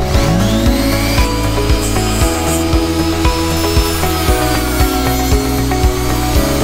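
A router or rotary power tool shapes a handmade wooden watch case, giving a loud continuous whine with rising pitch and repeated rhythmic cutting bursts, close and with no talk.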